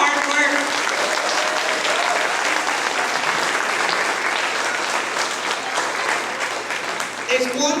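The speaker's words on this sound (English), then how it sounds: "let's give them another round of applause for their hard work" A loud round of applause follows a kindergarten concert, with close, vigorous clapping and voices mixed in throughout.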